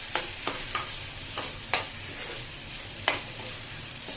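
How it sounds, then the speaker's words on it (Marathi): Onion-tomato gravy with whole spices, ginger and garlic sizzles over a high flame for paneer masala. A spoon knocks against the pan in a few sharp scrapes and clicks, heard close up with no voices. "आता आपण ही बनवलेली ग्रेव्ही घालून घ्यायची आहे."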